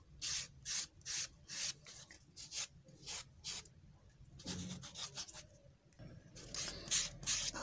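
Sandpaper rubs in quick repeated strokes against the edge of a leather shoe sole, a soft rhythmic rasping with brief pauses between bursts.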